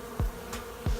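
Honeybees buzz briefly near a trap-out tube fixed to a brick wall outdoors, with two short close passes about a second apart over a quiet background.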